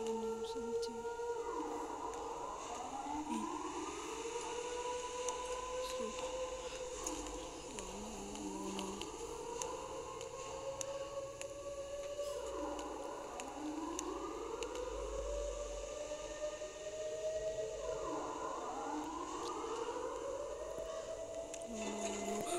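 A video game siren wails, rising and falling repeatedly in slow sweeping cycles, steady and continuous over a low rumbling background.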